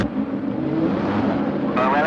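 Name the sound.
race cars on the starting grid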